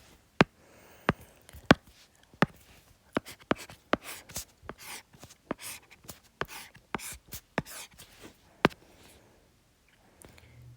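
A pen writes on paper close up, with quick scratchy strokes and taps coming in irregular bursts and short pauses, no talking.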